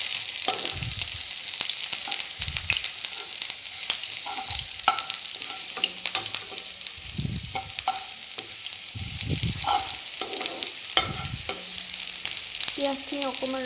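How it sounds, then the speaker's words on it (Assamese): Onions frying in oil in a pan for a Maggi masala tadka make a constant loud sizzle, with frequent stirring scrapes and thumps from a spatula throughout, close by and with no voices. "পিঁয়াজখিনি এতিয়া অকণমান আমি ভাজিম"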